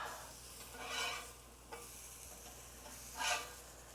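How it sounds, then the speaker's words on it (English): Onions grilling on a flat-top griddle for smash burgers, giving a soft, steady sizzle with two louder bursts of scraping and stirring, fairly quiet throughout. "Get these onions grilled up."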